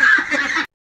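Ducklings in a winter brooder give a brief burst of high, shrill peeping, loud and close, that cuts off abruptly after about half a second.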